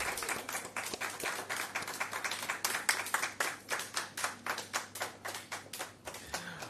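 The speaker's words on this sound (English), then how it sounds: "Round of applause." Applause from an audience at the official launch of Jamaica's clinical guideline for asthma management: steady, fairly close clapping that swells and then thins into separate, rhythmic hand claps toward the end.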